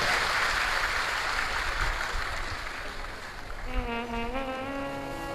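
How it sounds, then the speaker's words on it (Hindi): A crowd at a Shiv Mahapuran religious discourse applauds with a dense wash of clapping that gradually thins, while a sustained tone swells in near the end. "एक बार ताली बजाकर यजमान परिवार और सभी का आदर"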